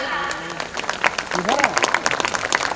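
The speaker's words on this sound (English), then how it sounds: "Please give them a big round of applause." An audience at a school's annual function claps for the chief guest and dignitaries; the applause starts light and grows denser and louder, with a voice talking over it.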